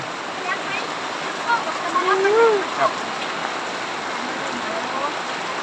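Steady rain hisses down continuously in a rural Thai village, with a voice speaking briefly in the middle over the downpour.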